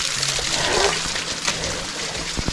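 Rainwater dripping and splashing onto mountain rock in the Belluno Dolomites after days of heavy rain, a close, continuous spatter and trickle with a few sharper drops near the end.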